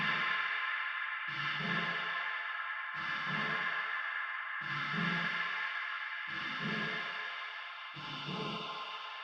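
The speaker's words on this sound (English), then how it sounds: "It's just like hollow space noise going through that filter." Hollow, airy noise through a low-cut filter swells in repeated pulses, about six waves with a thin, echoing, spacey character and no low rumble.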